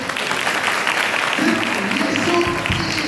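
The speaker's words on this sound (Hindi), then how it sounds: "क्या ताली बजा सकते हैं इस बात के ऊपर?" Congregation clapping during a Sunday church sermon, a moderate wash of hands that builds and continues steadily, with some tonal sound and voices mixed in beneath.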